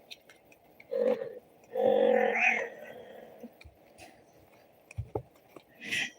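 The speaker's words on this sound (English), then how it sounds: "Technically, that was not a meow. That was a bunch of grunts" A cat lets out a few short, throaty grunting calls spaced apart, close by, with quiet gaps and small noises between them.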